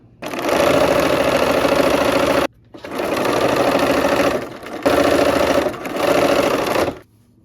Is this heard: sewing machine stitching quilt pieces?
yes